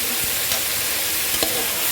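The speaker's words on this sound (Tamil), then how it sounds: "வெங்காயம் இந்த மாதிரி பொன்னிறமாக வதங்கி வந்ததுக்கப்புறமா தக்காளியை சேர்த்து வதக்கிக்கோங்க" Tomatoes sautéing with golden fried onions in a pan, a steady broadband sizzle with occasional soft stirring scrapes, close and continuous throughout.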